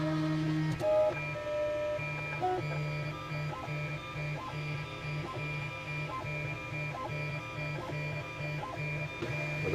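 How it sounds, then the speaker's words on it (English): A 3D printer running its auto bed leveling routine with a blue cube sensor, its stepper motors whining in repeated short tonal bursts and steady pulses, close and continuous, with no voices. "We're going through the auto bed leveling procedure here."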